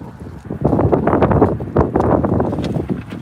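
Wind gusting outdoors against the microphone, a steady broadband rush with louder buffeting bursts throughout, close and fairly loud with no voice.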